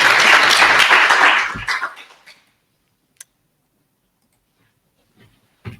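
A burst of clapping from a crowd for about two seconds, fading out, followed by near silence with a couple of faint clicks.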